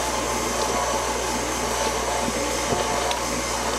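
Mixer motor running at speed while kneading sourdough bread dough, a loud steady whirring drone with a constant hum, unbroken for the whole stretch and with no talk.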